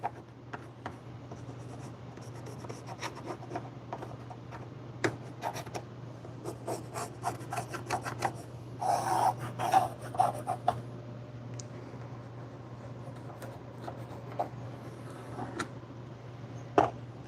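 A pencil drawing a dark marking line on wood makes repeated close scratchy strokes in quick, uneven bursts over a steady low background hum.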